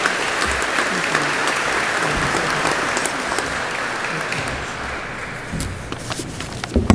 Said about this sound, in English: please help me welcome with a very warm round of applause, Major Jerry Ezell.